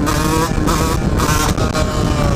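A Husqvarna 125 CR motard motorcycle's two-stroke engine revs hard and close, a loud buzzing whine that rises in pitch with brief dips between throttle blips over a couple of seconds.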